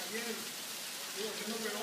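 Heavy storm rain pours steadily on a surface in a continuous broadband hiss, close and constant, with voices talking faintly underneath.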